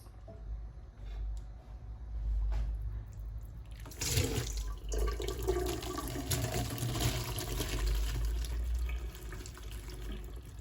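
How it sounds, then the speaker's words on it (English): Cooked pasta drains into a kitchen sink: a low background hum at first, then water pours and splashes steadily for several seconds, close and fairly loud. "my pasta is definitely looking ready to go. So I'm gonna drain that off"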